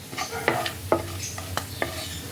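Whole garam masala spices, cardamom pods, cinnamon and cloves, are stirred in hot oil in a pan, with a gentle sizzle and a few distinct scraping clicks of a spoon against the pan.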